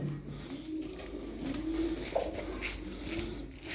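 Ankara game pigeons coo softly in a coop, low rolling calls repeating at a moderate distance over a steady background hum.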